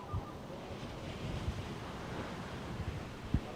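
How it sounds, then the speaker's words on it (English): Ocean surf rolls in at a surf contest at the Backdoor, a faint, distant wash mixed with wind buffeting the microphone and a few soft thumps. "Couple of waves rolling through for this heat out in the water."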